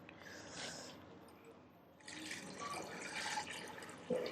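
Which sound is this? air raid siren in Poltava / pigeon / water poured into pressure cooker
water poured into pressure cooker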